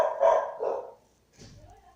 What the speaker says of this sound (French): Ta gueule le chien!